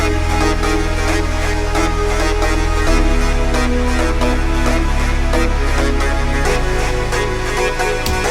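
A trance breakdown produced in Logic Pro X plays as a loud, continuous wash of layered synths over a deep sustained bass that shifts a few times, with no voices.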